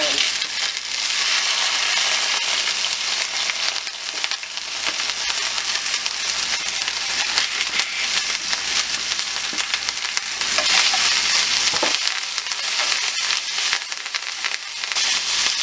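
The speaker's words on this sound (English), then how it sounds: "I'm going to add my olive oil in here. I'm going to go ahead and put my peppers in." Peppers sizzle and fry in olive oil in a pan, a steady, dense crackling hiss that holds for about fifteen seconds with no one talking.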